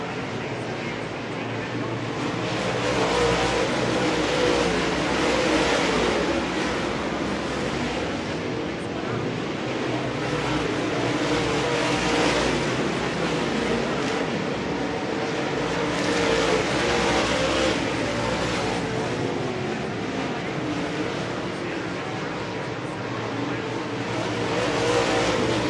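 Race cars circle the track in the Grant Junghans Memorial main event, a continuous broad engine roar that swells and fades as cars pass, with a voice talking over it.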